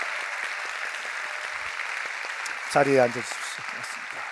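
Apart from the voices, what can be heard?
church congregation applauding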